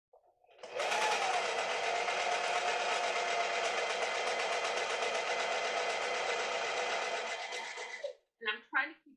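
A sewing machine stitches fabric with a puckered edge, running in a fast, steady whir for about seven seconds, close and fairly loud, then stopping, followed by a few brief handling sounds.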